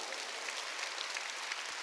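A congregation at a Wednesday church service claps together, a brief, steady wash of applause filling the room for about two seconds.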